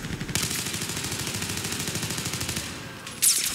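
Automatic gunfire in Battlefield 4 on the Pearl Market map, a loud, close, rapid and evenly pulsing burst lasting about three seconds, then a sharp louder report at the end.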